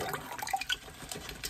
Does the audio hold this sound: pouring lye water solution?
yes